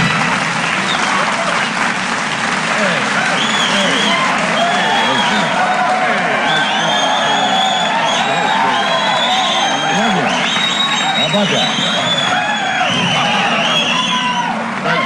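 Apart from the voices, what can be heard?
studio audience applauding and cheering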